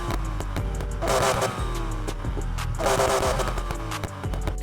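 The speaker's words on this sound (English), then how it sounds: "I like to stay 1 to 2 notches up from stock on my exhaust tone. Went for a little bit of a more raw overrun this time" Exhaust of a Nissan Fairlady 240Z race build in Need for Speed, revving hard in two loud surges with a raw, crackling overrun between them over a steady engine drone.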